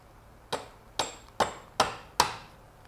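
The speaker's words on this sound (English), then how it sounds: "give it a few good whacks just to get it started, and then you can just tap it down" A plastic fitting is tapped down into a pipe for a solar blanket frame, giving five sharp, evenly spaced knocks about half a second apart, fairly close and clear against a quiet background.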